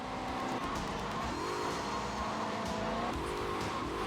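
A car drifting in GTA Vice City Stories on PS2, with a continuous engine drone and wavering tire squeal over several seconds under game noise.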